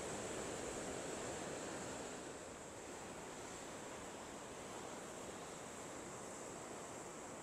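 Sea waves wash over a breakwater in front of a castle at high tide, a steady roar of surf and rushing water, loud and continuous, with wind noise mixed in.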